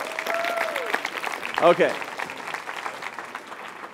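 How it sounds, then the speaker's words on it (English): Audience applause for four stage volunteers, a crowd clapping steadily throughout, with a brief spoken word and a short whistle-like tone briefly over it. "Would you give a big round of applause to all 4 of my volunteers?"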